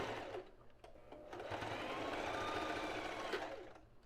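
A domestic sewing machine finishing a seam on lingerie, running in close, fast bursts of whirring stitches with brief pauses between them.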